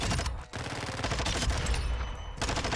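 SMG fire in a shooter video game, dense rapid automatic bursts that are loud and close, with one brief gap and then sustained rattling for the rest.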